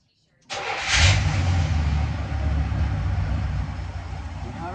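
A 1977 Chevy C10 V8 with vacuum leaks fires up abruptly and settles into a loud, close, steady idle with a rough low rumble, a brief rev at the start.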